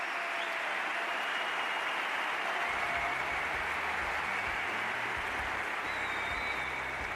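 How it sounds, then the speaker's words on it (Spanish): A large audience at an economic forum in Spain applauds after an interview, producing a continuous, uniform wash of clapping that stays loud and unbroken for the whole stretch. "Fuerte aplauso."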